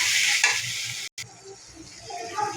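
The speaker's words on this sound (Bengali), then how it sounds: "আদা রসুন হলুদ মরিচ সব একসাথে মিক্স করে রাখছি, এটা দিয়ে দিব, দিয়ে ভালো করে লাড়া করে দিব" Ginger, garlic, turmeric and chili paste is stirred in a frying pan, giving a steady close sizzle with soft scraping strokes and a brief cut partway through.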